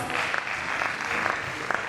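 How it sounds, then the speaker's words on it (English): A college lecture audience applauds the guest speaker with a sustained, even patter of many hands heard from some distance, with a few sharper claps standing out. "give our guest speaker a standing ovation"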